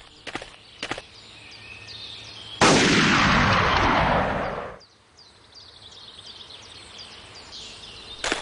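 A single loud rifle shot in the hunting game Hunting Unlimited 2010, a sharp blast that rings out and decays over about two seconds before fading back to quiet ambience.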